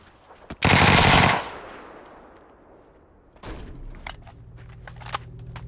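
A burst of automatic gunfire in a video game, loud and sustained for under a second, is followed by a fading tail and then further scattered sharp clicks and game sounds.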